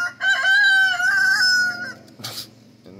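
A rooster gives one loud, near, drawn-out crow outdoors in the early morning, with other roosters answering around it, then a short rustle.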